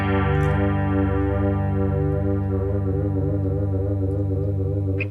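An electric guitar chord is held through a modulation effect with altered depth, the sustained tone wavering and warbling so it sounds detuned, loud and alone.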